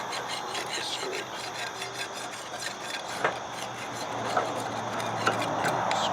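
Powder coat being scraped off a dune buggy's rear suspension part: a steady, close rasping scrape with a few sharp ticks and clicks, continuing without pause.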